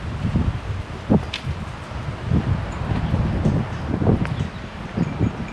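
Desert wind in Wickenburg gusts over the microphone in uneven bursts and soft rustles, fairly close and moderately loud.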